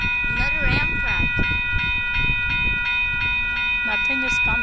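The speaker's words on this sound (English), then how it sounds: "Another, like an Amtrak. Another Amtrak." An Amtrak train passes on the Capitol Corridor at Sycamore Street in Newark, California, its rumbling rail noise and a sustained tonal hum running throughout, with people talking nearby.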